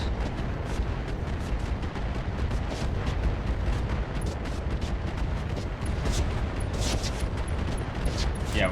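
Dense, continuous barrage of missile launches and explosions from a mech in the BattleTech RogueTech game, loud and rumbling throughout with rapid overlapping blasts, alone without talk.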